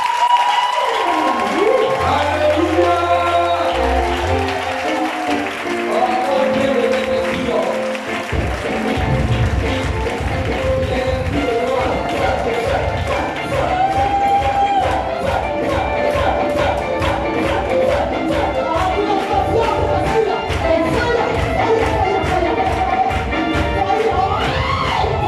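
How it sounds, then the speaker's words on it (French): Church congregation cheering and applauding during a worship service, a loud sustained roar of clapping and voices that builds after a quieter sung opening and stays steady throughout. "Maintenant, nous allons acclamer le Saint-Esprit"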